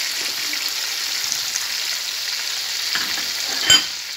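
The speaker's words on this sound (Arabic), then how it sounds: "نضيف حبات الثوم" Garlic cloves dropped into a pot of golden-browned meat for Syrian okra stew, a steady sizzle throughout with a sharp clatter of a spoon or lid near the end.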